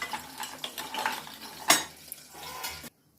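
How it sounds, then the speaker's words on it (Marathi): Seeded dry dates being lightly roasted in a pan, with close scraping and stirring of a utensil against metal, a sharp clatter midway, then sudden silence as it stops. "हे बघा आता ना ते थोडंसं हलकंच भाजून घ्यायचं ते खारीक फक्त बिया काढलेल्या आहेत"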